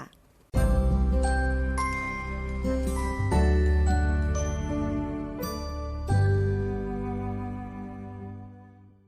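A bright chime jingle of a notification bell, a run of ringing tonal notes with sustained harmonics, struck in several bursts across about nine seconds, loud and alone with no talk.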